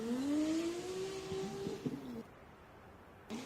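Drift car engine at full throttle during qualifying at the RDS GP round at Red Ring, Krasnoyarsk, a rising high-pitched whine heard from a distance that fades after about two seconds.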